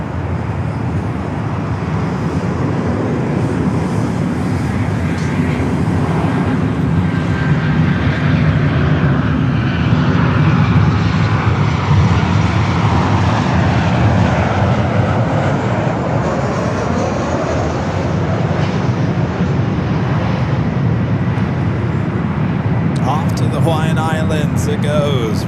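A heavy Delta airliner takes off from runway 24 left at LAX, its jet engines holding a broad, loud roar that swells and then slowly fades, with tower radio chatter heard throughout.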